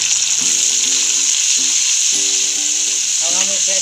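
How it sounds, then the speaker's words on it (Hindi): Vegetables for veg chowmein (red and green capsicum, cabbage) frying and being stirred in a hot pan, a loud steady sizzle that stays constant, with a few faint tonal clinks in the background. "अब हम इसे 10 मिनट भूनेंगे।"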